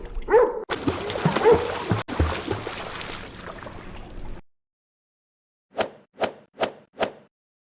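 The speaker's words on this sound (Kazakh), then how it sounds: "Балақай, дұрыс, бұл ит." A cartoon dog barks four short, sharp times in quick succession during an animal silhouette guessing game, heard alone after a stretch of busier sound.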